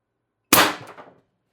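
One sharp crack from an Umarex TR50 HPA air rifle firing 12.7mm ball bearings at 1100 psi into plywood, a loud close report with a short ringing decay and a faint secondary knock, after silence.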